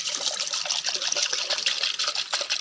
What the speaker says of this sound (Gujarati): હવે આપણે આને પાઈ દઈએ પાણી.